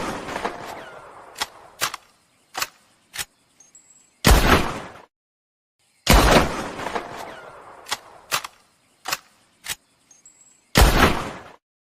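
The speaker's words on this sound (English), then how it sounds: "The bolt-action rifle is strong and versatile with an ammo capacity of 5 rounds" Bolt-action rifle from Red Dead Redemption 2 fires several loud, sharp shots, each followed by a long ringing tail. Quick mechanical clicks of the bolt being cycled fill the gaps between shots, and no one talks.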